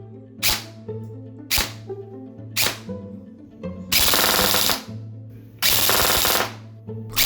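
Enforcer Night Wing Alpha airsoft gun firing at 20 rounds per second on an 11.1 V LiPo, with three short single shots followed by two longer full-auto buzzing bursts, close and sharp, over a steady motor hum.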